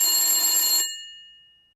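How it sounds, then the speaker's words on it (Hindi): An old-style telephone bell rings in a single loud, bright burst of about a second, then stops abruptly and leaves a short metallic ring-out fading into silence. "तभी टेलीफोन की घंटी बजती है।"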